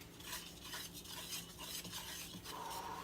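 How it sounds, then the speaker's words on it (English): Sugar and other ingredients being whisked in a bowl, a faint, steady rhythmic swishing and scraping at moderate distance, with no talking. "Time to whisk her up."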